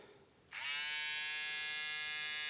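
An electric shaver switches on after a brief quiet moment and runs as a loud, steady, close high-pitched buzz to the end, with no talking.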